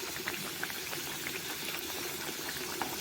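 Çiğ börek fries in hot oil with a soft, continuous bubbling sizzle and small scattered pops, fairly quiet and steady throughout.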